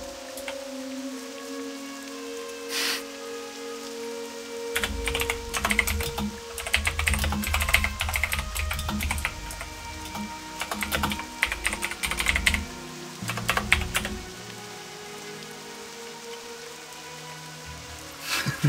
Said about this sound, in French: Oh, il pleut, je suis tout mouillé.